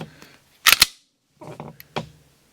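A Glock Gen 6 G45 pistol's trigger is pulled, producing a crisp double snap of metal parts up close, followed later by quieter clicks and handling noise, with no voices.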